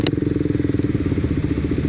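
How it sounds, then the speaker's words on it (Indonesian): A motorcycle engine running on Jumbo Oil 20W-50 idles close by with a steady, even chugging rhythm, preceded by a brief clatter at the start. "suara mesin halus ya"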